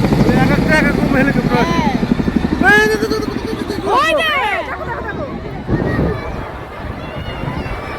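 A helicopter flies overhead during a presidential rehearsal in Puri, its loud rhythmic rotor chop dominating the scene while a crowd chatters and calls out, with several voices talking over it throughout.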